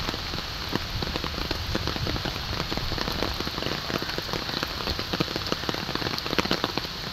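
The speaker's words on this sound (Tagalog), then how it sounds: "Ulan talaga guys. Ang lakas. Ang lakas." Heavy rain pours down steadily, a dense hiss of drops pattering on surfaces with scattered sharper splats, loud and close, no voices.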